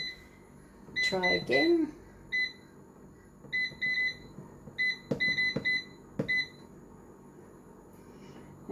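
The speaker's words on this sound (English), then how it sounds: "So I do need to go over and put on the air fryer." An air fryer's control panel gives a series of short, high electronic beeps as it is switched on and set, scattered irregularly amid brief speech and a few handling knocks.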